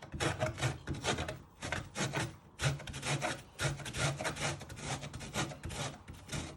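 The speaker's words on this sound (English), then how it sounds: "Once you grate all your lemon, you want to add it into your mixture." A lemon is rubbed against a grater for zest, producing quiet, rhythmic rasping strokes in steady back-and-forth bursts, with no talking.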